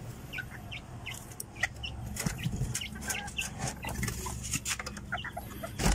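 Tiny Malaysian Serama miniature chickens kept as poultry give scattered clucks and short calls, fairly faint, over a low farmyard background.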